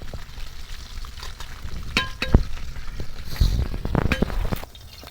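Fish pieces frying in a pan for a Bengali lunch, with a steady close sizzle broken by several sharp clinks and scrapes of a utensil against the pan, louder bursts of sizzling toward the end.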